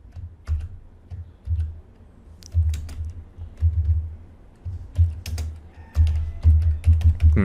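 Someone types PHP code on a computer keyboard, producing irregular clusters of soft clicks and key taps up close, with pauses between bursts and no speech.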